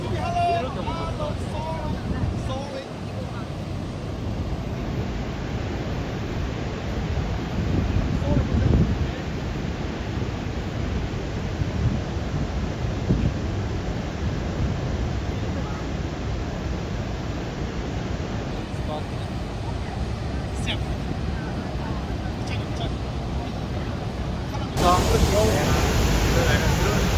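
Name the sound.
strong wind and roar from Niagara Falls waterfall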